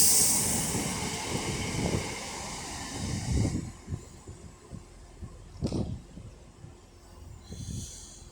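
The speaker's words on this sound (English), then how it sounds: "the first train to be departing will be the Northern Class 323 running from Crewe to Manchester Piccadilly." A Northern Class 323 electric train at Manchester Airport station, starting as a loud hissing rumble that fades into quieter rolling clunks and occasional sharp knocks as it pulls away, with no talking.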